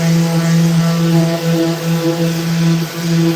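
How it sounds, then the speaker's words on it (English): An orbital sander shaping a wooden skateboard deck gives a loud, steady motor whine with a droning hum that wavers slightly in pitch as the pad presses against the board. "You're going to watch me do this with an orbital sander, too."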